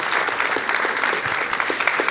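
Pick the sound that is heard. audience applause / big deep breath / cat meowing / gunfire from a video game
audience applause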